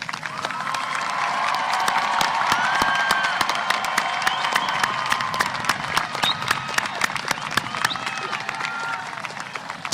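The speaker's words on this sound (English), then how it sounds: "Honor graduates, please stand and be recognized for your academic accomplishments by a round of applause" Graduation ceremony audience at a high school commencement gives a round of applause, dense clapping swelling quickly then thinning into scattered claps with some cheers, from a large crowd.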